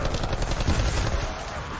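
Rapid bursts of gunfire from a special weapon in a zombie video game, a dense loud rattle of shots over a short stretch, alone with no talk.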